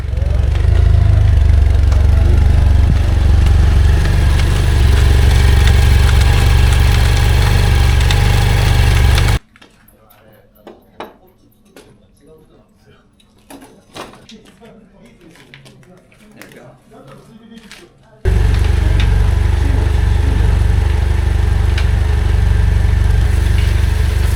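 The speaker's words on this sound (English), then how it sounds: "Scott wants us to listen to his motorbike. He reckons second gear sounds weird." A BMW R1250 GSA motorcycle engine runs loudly with a deep, steady rumble, cuts to a quieter stretch of scattered faint noises, then roars back at full level; second gear sounds odd.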